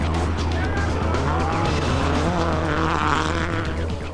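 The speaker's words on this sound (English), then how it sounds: "his nearest rival, Petter Solberg, is having a bad first day too, bashing his Subaru around, ending up in an off-road excursion" A Subaru rally car in the 2005 Greek rally drives hard on gravel, its engine roaring loudly and steadily. Tyres scrabble and skid beneath the engine, all dense and close, with no voices.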